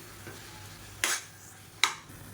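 Blended puree of four medium tomatoes goes into a fish curry masala frying in oil, giving two short, sharp sizzling bursts that rise from a quiet kitchen background.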